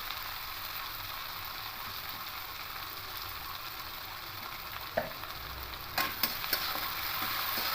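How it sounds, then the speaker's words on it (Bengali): Chopped onions with salt frying in a pan for dal fry, a constant soft sizzle with occasional sharp clicks of a spatula against the pan near the end, no talking. "দিয়ে একটু পেঁয়াজগুলোকে লাল লাল করে ভেজে দেবো"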